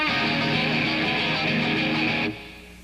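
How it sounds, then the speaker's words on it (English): Electric guitar with open strings left unmuted, a dense sustained wash of ringing strings played steadily and close, then cutting off abruptly near the end to leave low residual noise. "If you play open strings, it sounds like this."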